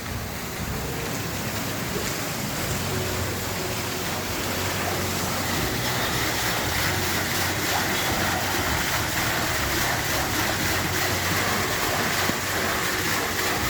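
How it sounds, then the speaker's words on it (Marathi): Water falls under pressure at a 300-year-old watermill, a constant dense rushing roar with steady intensity throughout and no talking over it. "तरी पानचक्की तुम्ही पाहू शकता याच्यात प्रेशरने पाणी पडतं"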